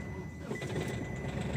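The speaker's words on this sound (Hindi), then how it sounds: "गाड़ी स्टार्ट होने के बाद से इंजेक्टर की जो नॉइज़ है वो काफ़ी बढ़ गई है" A Hyundai Grand i10 diesel runs after starting. Its engine gives a quiet, steady hum, and a fast mechanical ticking from the faulty injectors rattles beneath it.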